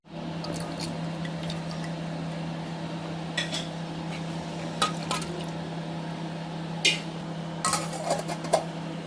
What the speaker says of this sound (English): So the water is boiling, chicken looks like it's a little bit boiled